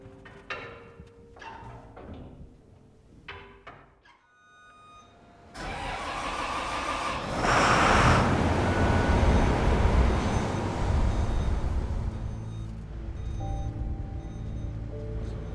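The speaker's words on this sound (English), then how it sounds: "The Rumleys are a really classic old gas tractor, and they have a distinctive noise when they're running, a distinctive firing pattern of the 2 pistons." An old Rumley gas tractor on an organic farm cranks with clanking, then its two-piston engine catches and settles into a loud, steady, chugging run close by.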